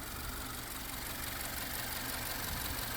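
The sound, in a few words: car engine starting and idling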